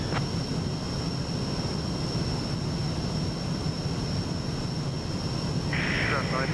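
Simulated Beechcraft airliner cruising at flight level 410 in Microsoft Flight Simulator 2024, a steady broad engine and airflow drone holding constant, with a faint radio-like burst near the end.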